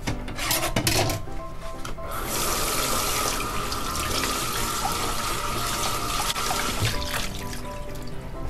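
Tap water gushing steadily into a sink as cut cabbage leaves are washed by hand, a loud, close, continuous splashing rush with rubbing and rustling of the leaves throughout, and no talking.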